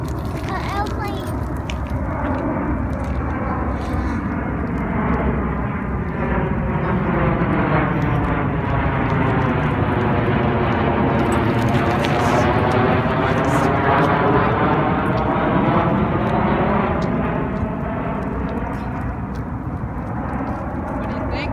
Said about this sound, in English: An airplane.